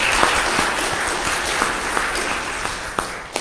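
A church congregation claps for a recent high school graduate, a steady wash of applause from many hands filling the room, with a few sharper claps standing out near the end.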